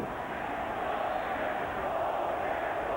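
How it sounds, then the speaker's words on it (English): A large stadium crowd at a 2002 Patriots at Bears NFL football game grumbles in disapproval, a steady, dense roar of many voices held at a constant level throughout. "The crowd doesn't like it."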